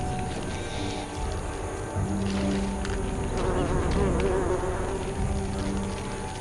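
A swarm of bees buzzes at their hive while ants attack it, a dense, steady drone of many wings close by with no talk.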